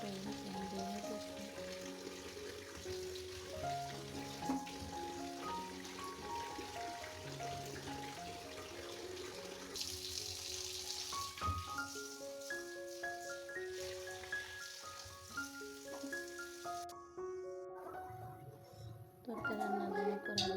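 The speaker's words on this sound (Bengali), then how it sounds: "মাছ ভাজা হইতেছে" Fish sizzles in a pan of oil for a Bengali cauliflower fish curry, a faint, steady frying hiss running under background music throughout.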